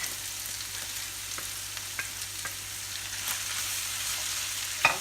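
Curry powder and vegetables fry in a pan with a steady, close sizzle and crackle, broken by faint stirring taps, with no talking.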